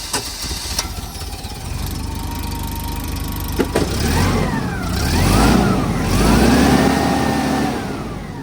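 A small forklift engine runs steadily nearby, its pitch rising and falling a couple of times as it revs up and settles back.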